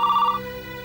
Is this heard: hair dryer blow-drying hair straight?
no